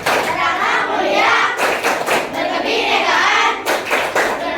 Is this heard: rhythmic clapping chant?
yes